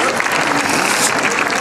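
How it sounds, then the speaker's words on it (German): An audience at a gathering in Berlin's Red Town Hall breaks into loud, dense applause, a steady wash of many hands clapping that fills the whole short moment. "einen großen Applaus."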